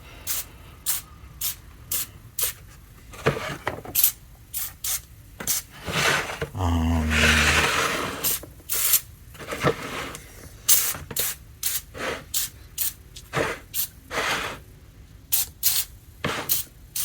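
Foaming cleaner sprayed from a trigger bottle onto a 1962 Aurora Wolfman plastic model kit, a long series of short sharp spray bursts in uneven rhythm with one longer hissing blast midway, close and fairly loud.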